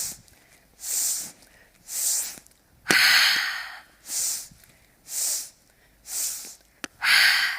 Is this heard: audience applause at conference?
no